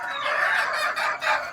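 Chickens on a small egg-hatching farm clucking and calling steadily throughout, a dense, close flock sound with some crowing-like tones, no speech.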